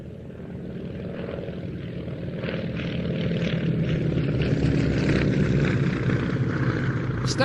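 A Staggerwing UC-43 propeller biplane at an airshow, its radial engine drone building steadily as it passes, continuous and fairly distant with no talk over it.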